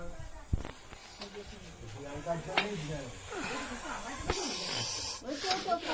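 A Russell's viper inside a house at night gives a loud, whistle-like hiss resembling a pressure cooker, in repeated bursts heard under talk.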